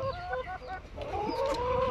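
Hens clucking inside a henhouse, with Padovana chickens among the flock; several overlapping clucks and short calls sound close by, busy and continuous with no talk.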